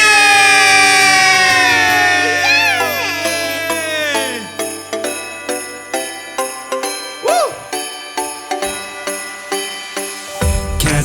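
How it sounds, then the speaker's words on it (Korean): A congregation at a church worship service lets out a loud, rising group shout of victory that fades after a few seconds. Steady rhythmic musical beats follow. "주님께 승리 함성 1, 2, 3 예!"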